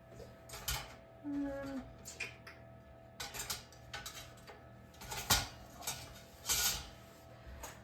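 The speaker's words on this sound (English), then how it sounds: "I'm just gonna get a large spoon and get that all stirred together" A large spoon stirs chicken cacciatore in a pot, with chicken in tomato liquid. Scattered, faint clinks and scrapes come in irregular bursts against a quiet background.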